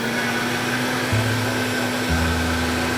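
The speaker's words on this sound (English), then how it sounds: "I'm gonna cover this up and blend it for 1 minute" A covered blender whirs loudly and steadily while mixing crepe batter, its motor pitch stepping up twice as it runs, with no voices heard.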